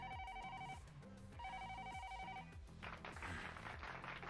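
An old-style telephone bell rings in two bursts in an episode of the Baki the Grappler anime. Dramatic music plays under the rings, and a rushing swell follows at the end.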